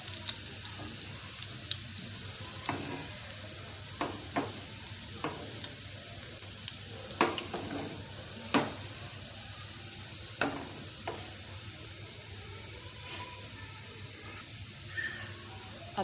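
Whole red chilies sizzle in hot oil with a loud, continuous hiss, broken by sharp crackles and occasional clinks of stirring throughout.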